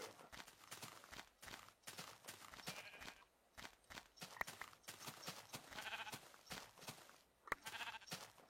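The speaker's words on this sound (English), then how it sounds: "Hello, sheep." Sheep bleat repeatedly in a rhythmic series of calls, moderately close, with hoof-like clopping mixed in and no talk over them.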